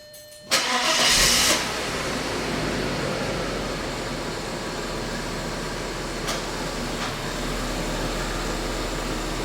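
An Audi Allroad A6 engine cranks in a brief loud burst and catches, then settles into a steady, even idle that runs on alone, heard close by.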